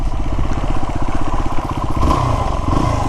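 A motorcycle engine running close by with a loud, rhythmic pulsing putter as the bike rides and turns around, its beat loosening briefly midway.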